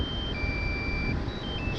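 A DJI Mavic 2 remote controller gives sustained electronic beep tones as it shuts off, steady pitched tones over a loud, constant wind-like background rush.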